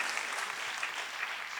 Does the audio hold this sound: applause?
yes